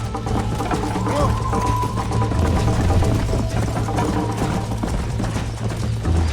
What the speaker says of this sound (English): Wild horses.